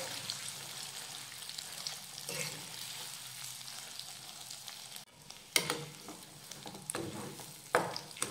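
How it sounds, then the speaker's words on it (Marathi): A ground masala paste for patvadi rassa bhaji fries softly in a pan under a steady sizzle, with a few sharper scrapes and knocks from stirring near the end. "3 ते 4 मिनिटं हे वाटण आपण परतून घेऊयात"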